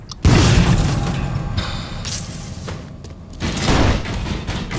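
Grenade explosion in the Mafia III video game, a loud blast that opens with a sharp boom and then rumbles on amid gunfire and mechanical clatter, with no talking heard.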